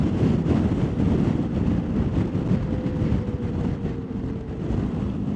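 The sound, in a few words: strong gale-force wind blowing on camera during motorcycle tour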